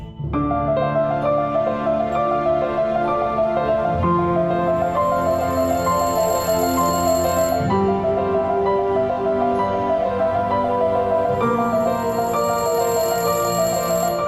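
A telephone rings continuously for about fourteen seconds, loud and close, a sustained bright bell tone over steady musical background tones.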